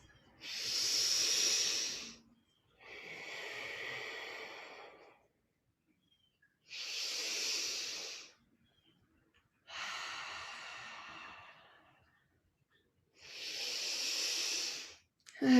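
Slow, deep yoga breathing close to the microphone, five long airy breaths each lasting about two seconds, separated by quiet pauses, with no talking.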